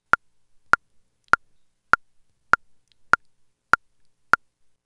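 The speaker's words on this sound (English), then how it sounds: "here is the sound of just my own local metronome playing back into my headphones" Local metronome clicks played back into headphones: eight sharp, evenly spaced ticks about 0.6 seconds apart, crisp and isolated against silence.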